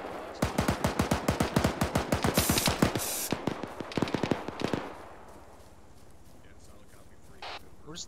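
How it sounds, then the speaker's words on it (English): Enemy machine gun fire in the Arma military simulation rattles in long, rapid bursts of sharp, loud shots for several seconds, then cuts off into quieter ambience, with voices in the background. "Where's that machine gun fire coming from?"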